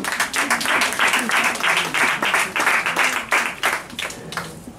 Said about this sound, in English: Let's give him a hand, a clap as he comes.